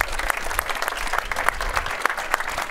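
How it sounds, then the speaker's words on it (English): An audience at a Krones Forum talk during the drinktec trade fair breaks into a round of applause, a dense, even patter of many hands clapping for a few seconds. "Let's hear a round of applause as I clear the stage."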